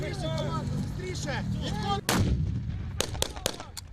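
Loud live gunfire and exploding artillery shells on a military training field, with sharp repeated blasts and cracks, a heavy explosion near the middle followed by scattered shots, with faint voices in the background.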